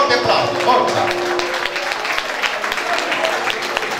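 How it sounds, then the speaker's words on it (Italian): An audience at a live Neapolitan song show claps loudly in welcome, a dense burst of applause with scattered voices and a tonal hum beneath, easing slightly toward the end. "Accogliamoli con un forte applauso, forza!"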